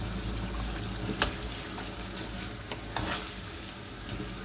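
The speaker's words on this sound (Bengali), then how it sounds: "মাংসটা কষানো হয়ে গেছে, এখন আমি চাউলটি দিয়ে দিব।" Rice tipped into a pot of braised meat for biryani sizzles steadily, with a close, dense frying hiss, soft stirring scrapes and a few sharper clinks of a utensil against the pot.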